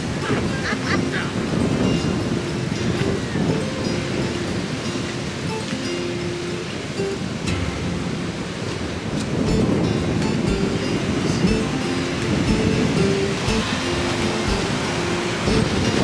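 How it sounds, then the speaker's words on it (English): Rough sea waves break and roll along the Spanish coast on a windy afternoon, a steady loud surf roar with surges that build and fade, mixed with gusty wind buffeting. "Sea's looking fairly rough this afternoon"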